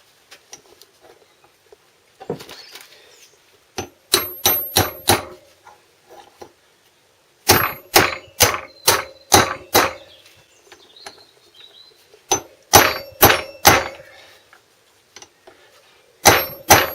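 A new wheel bearing for a Garelli Tiger Cross is hammered into a tight seat with sharp metallic blows, coming in quick bursts of three to six strikes separated by short quiet pauses, close and loud.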